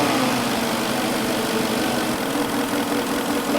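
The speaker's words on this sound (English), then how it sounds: "unplug the injector while it's running and see if it makes a difference" A Porsche engine idles with one fuel injector unplugged while running, a steady, close rumbling drone with a slightly rough, uneven undertone and no talking.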